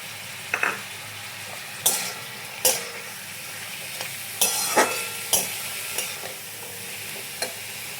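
Chopped carrot and potato fry in oil for sooji upma, giving a steady low sizzle broken by repeated scrapes and clinks of a spoon stirring the pan, close and without talk.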